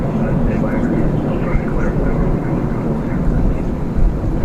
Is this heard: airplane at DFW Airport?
yes